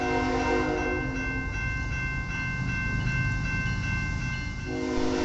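A Canadian National freight train with a Kansas City Southern locomotive in the consist sounds a long, loud multi-tone horn over the continuous rumble of the passing train, the horn breaking briefly before resuming.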